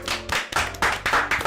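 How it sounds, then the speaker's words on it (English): Applause sound effect from the Doki Doki Literature Club video game: dense, steady clapping from a small group, loud and close, rolling continuously through the whole moment with brief dips. "I'm the first to start applauding. Everyone joins me afterwards."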